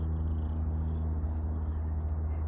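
A cat purrs steadily and close, a continuous low rumbling vibration with an even, unbroken texture throughout.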